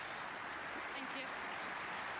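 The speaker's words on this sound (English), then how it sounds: "a deserved round of applause there for the referee" Audience applause for the referee at a snooker match, the German Masters 2024 final, a soft steady patter of clapping heard faintly in the arena.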